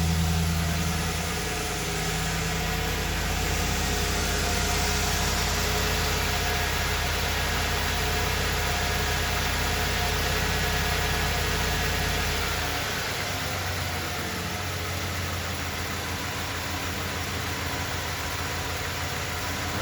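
A 1994 Ford F150 pickup idles after a cold start with its stock exhaust, a steady low engine rumble and hum that settles slightly lower partway through, close and continuous with no talk.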